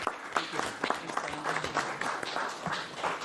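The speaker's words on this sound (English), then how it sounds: "So if we can give him a round of applause, I'd really appreciate it." A small group at a county board meeting claps steadily, a modest round of applause at moderate volume that continues throughout.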